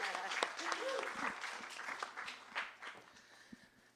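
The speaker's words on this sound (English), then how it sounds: "You may clap now." An audience at a book event applauds, a faint, fairly distant patter of many hands mixed with murmuring voices that fades slightly toward the end.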